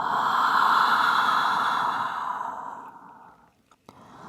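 A long, deep exhale through an open mouth during a beginner vinyasa yoga session, a loud breathy sigh that swells at once and then fades away over about three seconds, followed by quiet.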